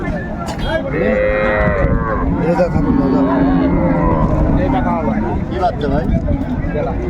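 Crossbred cows and calves moo loudly and repeatedly at a crowded cattle market in Raniganj, long overlapping bellows amid constant crowd chatter and talking close by.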